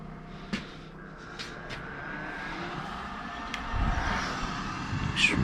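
A Triangle Tube Challenger boiler fan motor hums steadily and continuously, building slightly toward the end, with a few faint clicks on top.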